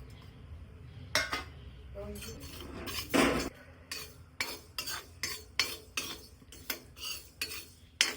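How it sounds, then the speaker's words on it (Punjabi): Carom, nigella, fennel and fenugreek seeds are dry roasted in a wok for carrot pickle. A spatula scrapes and clinks against the metal in a fairly regular rhythm, close up and moderately loud, with no voices. "ਇਹ ਆਪਾਂ ਸੁੱਕੇ ਹੀ ਭੁੰਨ ਕੇ ਪਹਿਲਾਂ ਤਿਆਰ ਕਰਨੇ ਆ ਕੜਾਹੀ ਦੇ ਵਿੱਚ ਪਾ ਦਵਾਂਗੇ"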